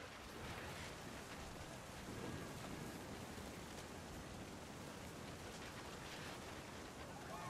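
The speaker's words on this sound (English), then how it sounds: "Thunder sounded much too close and full of angry power." Steady heavy rain hisses in a stormy night scene from the video game What Remains of Edith Finch, with low rumbles of thunder blending into the dense, fairly quiet downpour.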